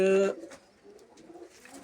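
Pigeons with their young give soft, low cooing in a loft, strongest in a brief opening burst and then fading to faint, scattered coos under light background noise.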